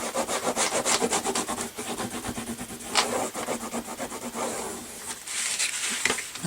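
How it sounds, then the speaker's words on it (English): A bone folder burnishes folds in paper for a file-folder scrapbook album, making repeated close rubbing strokes that rasp back and forth with a brief pause midway. "So with your bone folder, really make sure you burnish these folds."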